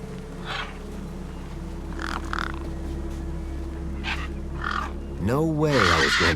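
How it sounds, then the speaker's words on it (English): Crows feast and caw in the video game Beyond a Steel Sky, with scattered harsh calls over a steady low ambient hum and a louder burst of rising, warbling calls near the end. "No way I was going to get between those birds and their feast."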